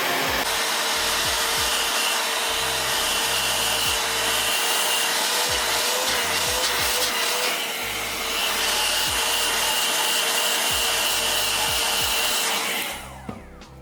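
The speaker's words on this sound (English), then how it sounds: "I'm gonna take my blow dryer and just go over it a little bit with some heat" A blow dryer whirs loudly and steadily up close for over ten seconds, heating styled hair, with faint rubbing and handling noises, before switching off.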